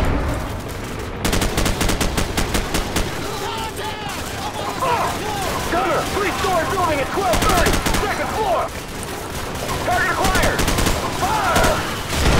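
Dense Call of Duty 4 firefight in a city street, rapid automatic rifle bursts and overlapping shots crackling continuously and loudly, with a player briefly speaking over the din.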